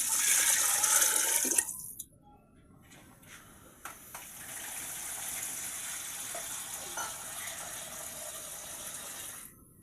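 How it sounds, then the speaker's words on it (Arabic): Water poured into a pot for dshisha, a loud splashing gush for under two seconds, then a quieter steady trickle that continues near the pot until the end. "غادي ندير الماء القدر لي ما تجينيش يابسه بزاف، ما تجينيش جاريه بزاف."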